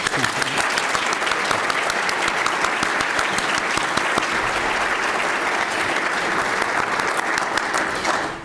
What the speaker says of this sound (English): Please give Gene a round of applause.